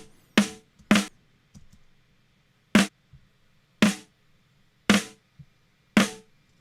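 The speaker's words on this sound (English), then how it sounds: "This is the only actual snare sound of her actual snare drum that I was given as a track." Six sharp, isolated gated snare drum hits from a song, with abrupt cutoffs, each followed by silence, spaced irregularly.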